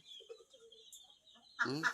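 Farmyard ducks and chickens cluck and chatter faintly, with a few scattered calls, then a louder burst of squawking close by at the end.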